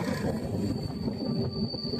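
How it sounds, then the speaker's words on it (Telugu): A Chennai suburban local train arriving at a station rumbles and rattles with steady wheel noise and a faint high squeal above, loud and close throughout with no talk. "ఇప్పుడు వస్తున్న ట్రైన్ చూశారు కదా, అది తాంబరం నుంచి వస్తుంది."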